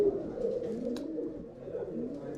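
Pigeons with leg rings coo steadily in a loft, a low continuous murmur of overlapping calls filling the whole stretch at moderate loudness.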